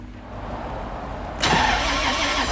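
Porsche engine started from quiet: after a low background hum the starter catches and the engine bursts into a loud, steady idle, close up, with no voices.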